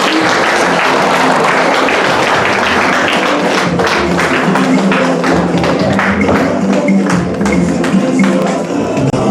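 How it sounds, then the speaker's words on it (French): Wedding guests in a reception hall clap loudly and continuously, a dense, close burst of applause with individual sharp claps standing out throughout. "sous votre applaudissement"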